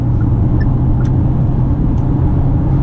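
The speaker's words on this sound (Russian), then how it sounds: "Уверенный рост оборотов вместе со скоростью, и легко загоняются, да, красные режимы в предельные значения для наших дорог." Inside a Jetour X70 Plus SUV overtaking at highway speed, the engine gives a loud, steady, close droning rumble that holds constant through the short stretch, with no voices.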